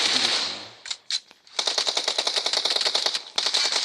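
Rapid automatic gunfire in the mobile game PUBG Mobile, with a short burst, a pause, then a fast, loud, sustained rattle of shots up close.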